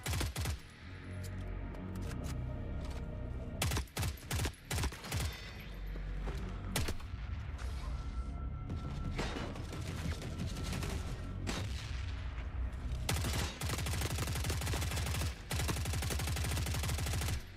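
Sustained firefight in The Forever Winter: sharp, close shots crack out singly and in rapid bursts, set against a continuous roar of distant weapons and explosions, ending in a long stretch of fast automatic fire.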